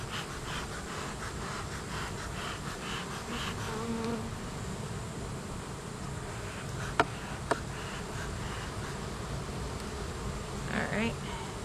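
Honey bees buzz steadily around hive comb, a continuous moderate drone with a couple of brief sharp clicks partway through.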